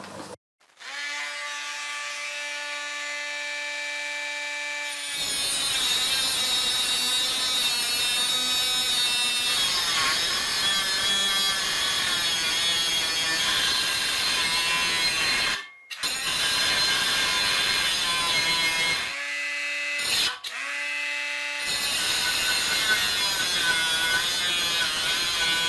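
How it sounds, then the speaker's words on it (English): A Bosch 12-volt cordless grinder runs with a loud, steady, high-pitched whine while cutting stainless steel on a boat, with a few brief stops and restarts near the end. "Is it possible to cut a bit of stainless steel with that, like that, with a Bosch rechargeable battery grinder, 12 volt?"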